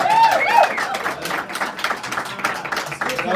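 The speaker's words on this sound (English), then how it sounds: "I figured out how he gets that kind of applause" Audience applause at a press conference opening: brisk clapping from a crowd lasting a few seconds, with a voice briefly audible at the start before the clapping carries on.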